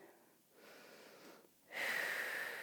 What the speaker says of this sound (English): And then just breathing here.